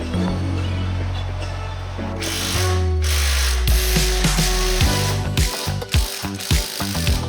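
A hand ratchet tightens the engine mounting nuts on a Nissan Almera, loud and close, first a long run of fast clicking, then shorter choppy strokes with pauses.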